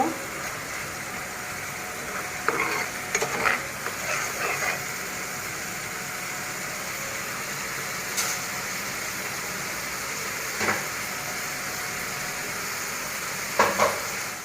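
Spice masala frying in a pan for a Bengali katla fish curry with taro, a steady soft sizzle with a few scattered clinks and scrapes of stirring.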